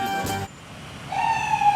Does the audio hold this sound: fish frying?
no